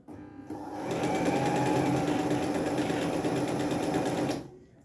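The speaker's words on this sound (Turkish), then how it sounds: "Gördüğünüz gibi sessiz yumuşak bir dikişi var makinenin" A Singer Felicita sewing machine runs a steady straight stitch, a smooth, even, continuous whirr that starts up, holds at constant speed for several seconds, then winds down, close and alone.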